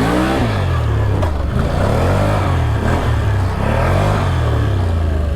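A Can-Am Outlander ATV on stretched 34-inch tires revs hard and steady during a wheelie attempt, its loud, close engine droning continuously with rising and falling pitch and no talk.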